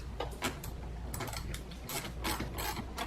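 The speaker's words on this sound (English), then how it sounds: "what you'll do is simply just loosen that nut" A wrench loosens the nut on the negative battery terminal of a Volkswagen, a close run of quick metallic ratcheting clicks repeating in short bursts.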